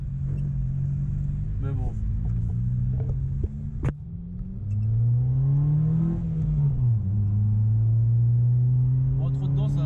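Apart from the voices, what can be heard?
truck passing on road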